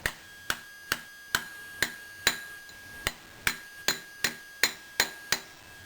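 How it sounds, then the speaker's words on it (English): A socket is hammered against a wheel bearing seal on a Suzuki Ozark to drive it into place: about a dozen sharp metallic taps in a steady rhythm, close and fairly quiet, with a faint background hum. "I'm just going to drive it in with the socket just like I did with the bearings"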